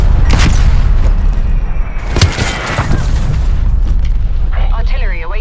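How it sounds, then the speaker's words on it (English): Deep booming artillery explosions from a shooter video game thunder through the clip in loud, overlapping blasts, with a sharper crack near the middle and a warbling electronic tone near the end. "Artillery inbound."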